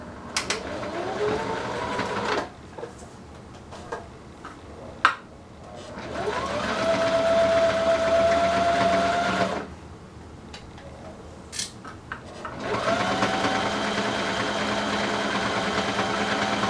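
A sewing machine backstitches a sleeve seam, running in three separate bursts of fast, close mechanical stitching with short quiet pauses between them.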